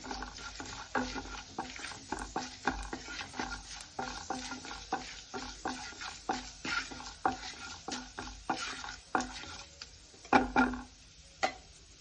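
Chana dal and urad dal frying in oil with half a spoon of turmeric, stirred with a spoon in a pan, giving a steady soft sizzle broken by frequent sharp clinks and scrapes close by.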